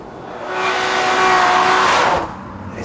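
A new Honda Legend sedan drives hard through a corner, its engine note and tyre roar swelling loudly and then dropping away after about two seconds, with a faint squeal of rubber under load.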